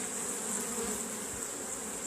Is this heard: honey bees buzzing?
yes